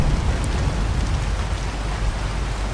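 Steady, dense rain falls in the ARK: Survival Evolved game on The Center map, a continuous hiss of droplets with a low rumbling undertone that holds at an even, fairly loud level throughout, with no voices.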